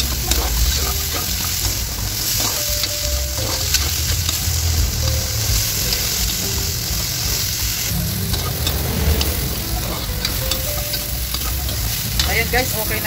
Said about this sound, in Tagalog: Mag-add lang tayo guys ng mantika. At itong carrots at patatas naman ang ating ito-fry.